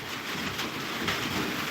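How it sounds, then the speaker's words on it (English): Light drizzle falls outside as a soft, even patter of rain, quiet and steady throughout the short stretch, with no talking. "it's actually, though drizzling, like today the rain is not that much, though it's still raining"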